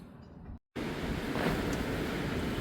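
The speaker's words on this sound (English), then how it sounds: "It is super, super windy, so it keeps blowing my tripod over." Strong wind roars and buffets the microphone in a loud, continuous rumble, briefly cut to silence before gusting back even stronger.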